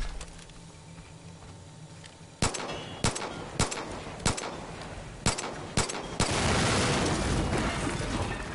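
Gunfire in the video game Far Cry 5: a string of sharp, loud single shots spaced roughly half a second to a second apart, then a dense burst of rapid fire at the end.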